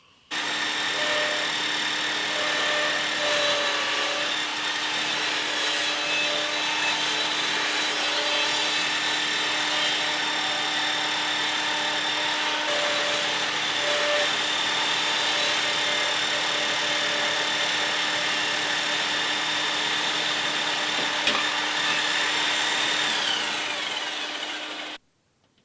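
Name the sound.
drilling through wood with a 2mm drill bit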